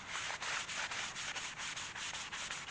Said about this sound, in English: I'm just going to rub that in.